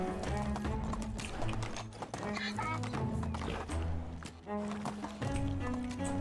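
Donkey hooves clip-clop steadily in the video game Medieval Dynasty, set against a dense, continuous backdrop of game music and ambience, with a voice talking over it.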